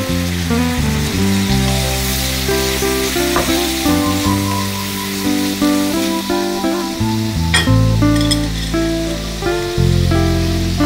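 Ginger, garlic and green chilli paste sizzles loudly in a hot pan with a constant spattering hiss, accompanied by humming tonal music underneath and a few sharp clicks.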